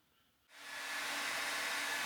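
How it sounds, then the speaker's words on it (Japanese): A hair dryer switches on abruptly about half a second in and roars steadily and loudly through the rest, a continuous broad whooshing hiss with no talking. "後ろから鳴り響く轟音は風呂上がり4目のドライヤーでございます。"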